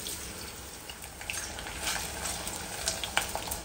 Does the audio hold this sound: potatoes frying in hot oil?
yes